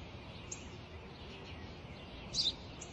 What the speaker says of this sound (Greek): Ένα σπουργίτη είναι, πατέρα. Ένα σπουργίτη.